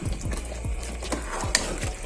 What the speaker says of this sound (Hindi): पानी डालते हैं और इसको थोड़ी देर के लिए बंद कर देते हैं